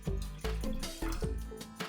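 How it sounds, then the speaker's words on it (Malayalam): Milk and then water are poured into a non-stick pan for coffee, giving a series of close, quiet liquid splashes and drips in uneven spurts. "അതിലേക്ക് 1 കപ്പ് അളവിൽ പാൽ ഒഴിച്ചു കൊടുക്കുക. കൂടെ 1/4 കപ്പ് വെള്ളം"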